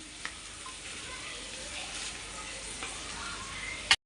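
Chickpeas sizzle and fry steadily in a pan as they are stirred, a continuous crackling hiss with a few faint ticks and a sharp clack at the end.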